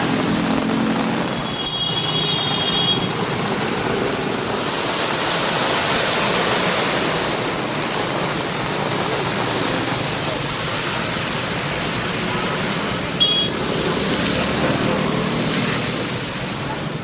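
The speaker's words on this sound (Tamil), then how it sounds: "பேருந்து நிலையத்திலிருந்து சேலம் செல்லும் சாலையில் வெள்ளம் ஆறு போல் பெருக்கெடுத்து ஓடியது." Floodwater after a sudden heavy downpour surges like a river along the road from the bus stand toward Salem, making a loud, steady broadband roar that continues without a break.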